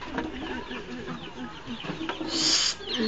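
A bird calls with short clucking, fowl-like sounds, close and moderately loud, mixed with voices and household noise, then a brief high squawk near the end.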